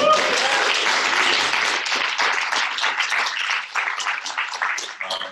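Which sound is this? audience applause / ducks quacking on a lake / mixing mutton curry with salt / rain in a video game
audience applause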